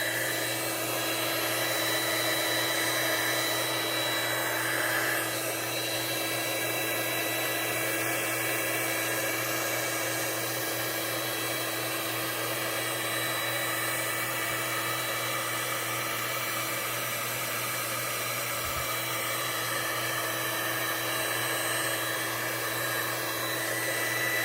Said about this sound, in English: And we'll blow a little bit of this white off of here